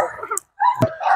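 Dog in orchards in Diyala, Iraq, giving a few short yips and barks close by, broken by a brief pause, with a person talking over it.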